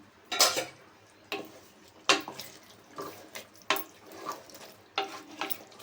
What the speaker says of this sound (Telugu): కూర కలుపుకుందాం.